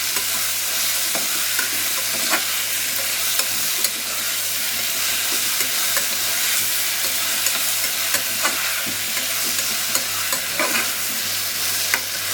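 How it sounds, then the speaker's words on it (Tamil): Vegetables for tamarind curry sizzle steadily in a pan while being stirred, a loud continuous fry with scattered scraping clicks and no voices. "நல்லா 2 தடவை கிண்டி வச்சுக்குவோம்."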